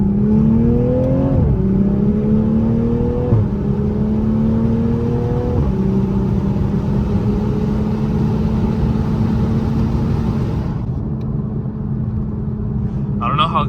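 An A90 Supra fitted with a CTS Turbo downpipe pulls hard in second gear, its exhaust droning and climbing through a couple of gear-like steps before settling into a steady cruise rumble, heard from inside the car with the windows down.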